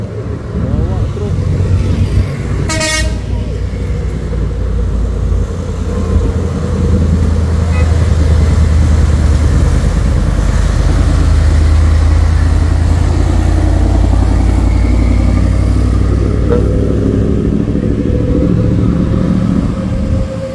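Heavily loaded truck engine rumbling steadily nearby for the whole stretch, a deep continuous drone with a brief high clatter early on and voices talking faintly over it.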